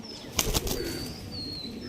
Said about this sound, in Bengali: চলো পায়রা দুটোকে ছেড়ে দেখে দিই